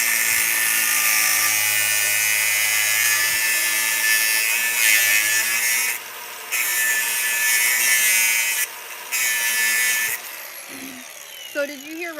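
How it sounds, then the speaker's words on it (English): Grinder running loud and continuous in a workshop, with a high whine that drops out briefly twice, and a voice speaking over it. "I gotta wait for the grinder to stop."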